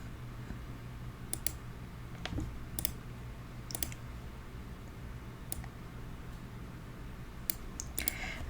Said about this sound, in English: I'm gonna type this on the computer instead